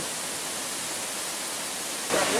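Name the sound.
Padawatu waterfall rushing water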